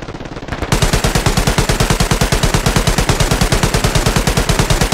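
Sustained heavy machine gun fire in the World War II shooter Hell Let Loose, with a short lead-in and then a loud, rapid, evenly paced stream of shots that runs without a break to the end.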